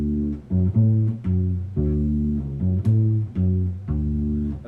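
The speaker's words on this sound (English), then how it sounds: "And that's going to be the typical bass pattern." Bass ukulele picking a slow, syncopated bass line of low, round, plucked notes in an even repeating pattern, moderately soft with no talking.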